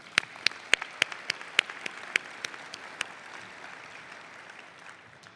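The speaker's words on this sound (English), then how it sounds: "So let's give him another round of applause." Audience applause at a nursing symposium and pinning ceremony: sharp individual claps ring out over a steady crowd clapping, fading into a softer sustained patter toward the end.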